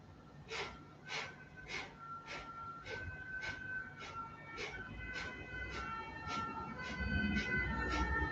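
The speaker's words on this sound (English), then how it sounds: "Sirens in the background." A siren wails steadily in the distance, its tone held and slowly shifting, beneath a regular series of soft breathy pulses close by.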